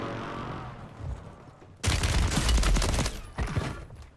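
Kimbo Uzi gunfire in the Warzone (MW3) video game: after a muffled lead-in, a loud, dense burst of rapid automatic shots rattles for about a second and a half, then a shorter burst follows.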